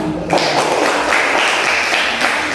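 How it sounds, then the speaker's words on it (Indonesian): A classroom of students clapping together, a steady dense patter of applause that holds at an even level throughout. "Silakan, tepuk tangan dulu."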